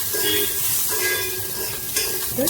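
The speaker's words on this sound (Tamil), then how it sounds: "அதனால் இதில் காஞ்ச மிளகாய், கருவேப்பிலை நல்லா வறுத்துக்கலாம்." Dried red chillies and curry leaves fry in a hot Indus kadai, giving a steady, close sizzle of oil with occasional stirring scrapes and no talk over it.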